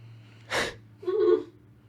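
A single sharp sneeze bursts out at close range, a breathy sudden blast followed by a shorter voiced snort-like tail, over a faint steady electrical hum in an indoor room.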